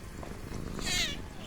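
Kittens mewing in a TV episode, a short high-pitched cry rising near the end over a busy background with voices and music.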